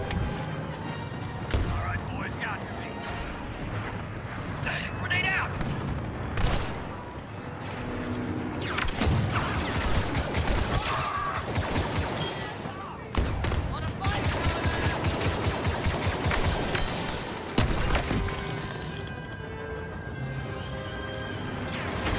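Blaster fire in Star Wars Battlefront II, with dense bursts of rapid shots and battle noise throughout, mixed with sharp squealing sounds, scattered impacts and short voice lines.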